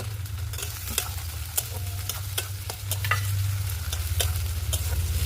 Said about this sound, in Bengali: দিয়ে দেবো চিড়ে রাখা কাঁচা লঙ্কা, আর দিয়ে একটু ভালো করে ভেজে নেবো।